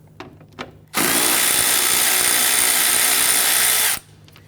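Power tool whirring for about three seconds as it spins out a 10mm headlamp bolt on a 2011-2015 Kia Sorento, loud and close, starting and stopping abruptly, with quiet clicks before.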